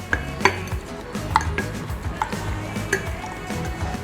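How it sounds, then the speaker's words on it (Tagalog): Pestle mashing lime and orange pieces with sugar in a glass, a series of dull, irregular thuds and clinks, close up, each hit fairly soft with brief pauses between. "i-mash lang natin siya gamit itong ating pestle"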